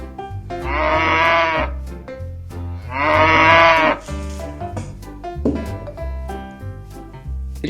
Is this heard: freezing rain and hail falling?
no